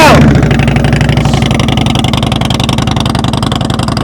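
A motorcycle engine runs loud and close during slow-speed riding practice, holding a steady, throbbing low-rev drone throughout.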